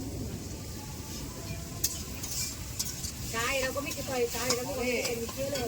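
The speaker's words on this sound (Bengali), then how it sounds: "পেঁয়াজটা আমি ভাজবো।" Onions fry in a pan for a meat dish, making a faint, steady sizzle with occasional stirring and clinks of utensils; a voice talks over the cooking in the second half.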